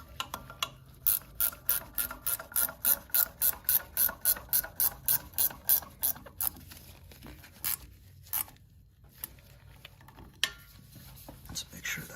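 A hand ratchet clicks in a steady rapid series of close, sharp strokes while an oil filter is tightened on a Mahindra 2638 tractor, then slows to a few scattered clicks.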